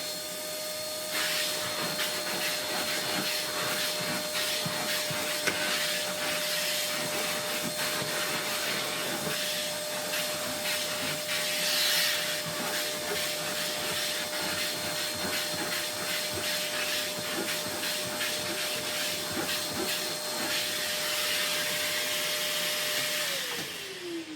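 A 2026 V-TUF Mini HSV X2 M-Class tough vacuum runs continuously with a steady, loud rushing whine and a constant motor tone, nearby, its pitch dropping as it shuts off at the end.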